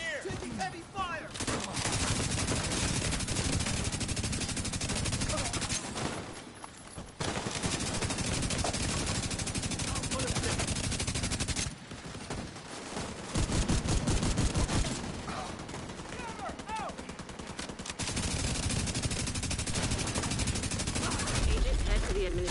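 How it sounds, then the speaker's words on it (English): Heavy gunfire in The Division 2, long loud bursts of rapid automatic shots broken by a few brief pauses, sustained and close throughout. "Taking heavy fire!"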